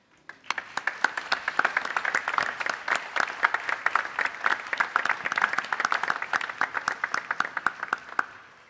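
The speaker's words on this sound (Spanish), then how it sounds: "También un caluroso aplauso para Inmaculada Rodríguez Flores" Audience applause at a folk music association performance, a warm sustained round of clapping with distinct individual claps, fairly distant, swelling then fading out.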